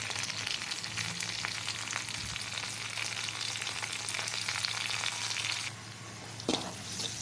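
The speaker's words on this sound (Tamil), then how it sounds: "நல்லா வதக்கினதுக்கப்புறம் தக்காளியை சேர்த்துக்கலாம்" Tomatoes sautéing in hot oil for tomato rice: a continuous close, bright sizzle with light crackle throughout, dropping quieter near the end after a brief stir or clank, and no talking.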